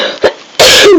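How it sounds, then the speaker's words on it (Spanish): A person with a cold gives a couple of loud, close coughs: one brief hack, a pause, then a longer, harsher cough. "Perdón por las toses, por la tos que tengo"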